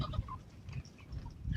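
Turkeys gobbling on a small urban farm, several short bursts of gobbles and clucks at close range with low rumbling noise in the background.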